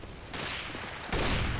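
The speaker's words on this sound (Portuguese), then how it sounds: "O tiro não pegou." Continuous gunfire in the CS:GO video game, a dense burst that swells louder near the end and runs for the whole short stretch with no talking.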